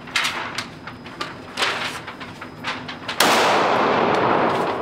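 Gunshots at a gun range, a series of sharp, fairly close cracks spaced irregularly, followed by a sudden sustained burst of loud broadband noise.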